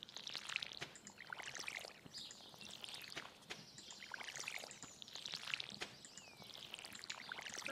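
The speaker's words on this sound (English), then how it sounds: "Okay, now I just gotta water them." Crops are watered in the video game Stardew Valley: soft repeated pouring and splashing effects over faint ambient birdsong, quiet and steady with no talk.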